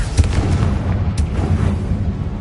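A Confringo spell explodes in a Hogwarts video game: a loud, dense burst of rumbling booms with deep low-end weight that rolls on continuously, with no voices.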